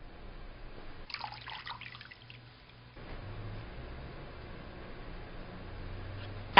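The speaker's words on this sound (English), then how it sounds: "Wet the mitt with warm, clean water from the basin." A washcloth mitt wetted with warm, clean water from a basin during elderly hygiene care, heard as soft splashing and dripping, quiet and close, followed by a faint trickle.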